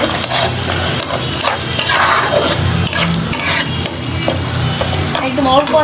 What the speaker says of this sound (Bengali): একদম অল্প আছে, একটু ভেজে নিচ্ছি ডিমটা।